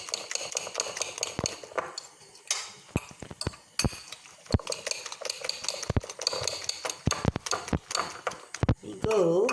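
Omelette mix with capsicum, green chilli and coriander whirring in a blender in short bursts, with clinks and clatters of utensils and moments of talk in between.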